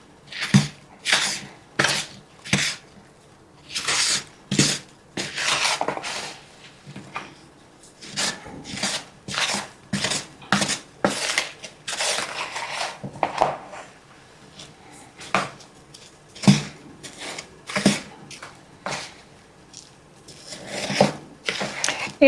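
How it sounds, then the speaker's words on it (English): A spoon works apples into a simple three-ingredient cake batter in a bowl, giving a run of close, rhythmic scraping and thudding strokes with short pauses between bursts and no voices. "I'm going to put my apples in. Okay, so I'm just going to give it a good stir"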